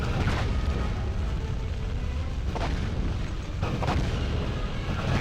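An environmental explosion in the PS2 game 007 Quantum of Solace, set in an eco hotel, produces a dense, continuous roar of rumbling blast noise that stays loud throughout, with a few sharper bursts breaking through.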